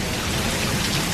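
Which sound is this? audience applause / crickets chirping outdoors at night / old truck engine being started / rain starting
rain starting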